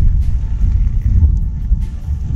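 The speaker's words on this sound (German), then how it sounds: "Und es donnert" Low, steady rumbling of thunder from a large storm cloud in the Western Alps, heard outdoors with wind and background noise while on a bikepacking tour, with no talking.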